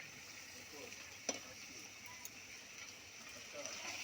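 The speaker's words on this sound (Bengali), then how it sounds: "দেখুন আমরা লোটে মাছটাকে ভালোভাবে নাড়িয়ে চাড়িয়ে নিচ্ছি।" Lote fish (Bombay duck) being stirred as it fries in a pan, a faint steady sizzle with a few soft scrapes and one sharp clink of the utensil.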